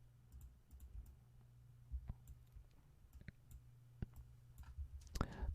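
Scattered key clicks from a computer keyboard as numbers are entered, quiet and close, in irregular taps with pauses and a brief burst near the end, over a low steady hum.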